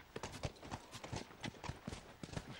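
Steady clip-clop of horse hooves trotting in The Last of Us, an even rhythmic beat of close, moderately loud footfalls with no other sounds over it.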